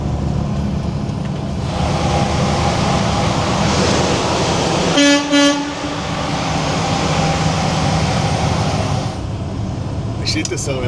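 A car horn blares for about a second while driving into a road tunnel, its bright harmonic tone standing out loudly over the steady roar of traffic and tunnel rumble, with a voice talking throughout.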